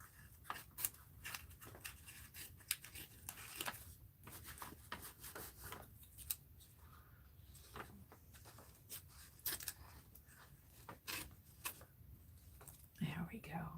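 Scissors snip through paper being trimmed for an art journal, a series of short, crisp cuts with brief pauses between them, close by with a soft voice murmuring underneath.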